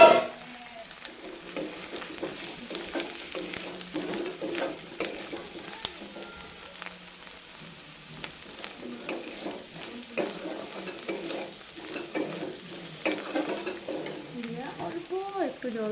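Lentil fritters and fried potatoes sizzle in an oil-filled pan, with steady frying crackle and repeated stirring scrapes running throughout at close range.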